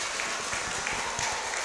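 Audience applause at a kindergarten farewell event for TK Dharma Wanita Wonorejo 1 in Wates, Kediri, a steady wash of many hands clapping close by and filling the whole moment without a break.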